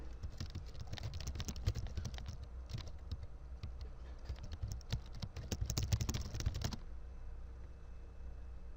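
Rapid typing on a computer keyboard, a dense run of close, crisp key clicks lasting several seconds before stopping abruptly into quiet room tone.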